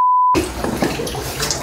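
Floodwater swirls and sloshes inside a flooded house, knee-deep in the bathroom, after a short steady electronic beep at the start; the splashy, gurgling wash is continuous and fairly close.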